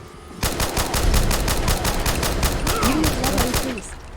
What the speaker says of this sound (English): How come he can shoot me, but I can't shoot him?